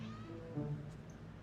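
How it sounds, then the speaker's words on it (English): A cat meows once, mid-volume and close, with a steady background hum underneath and no talk. "Yes, the cat agrees."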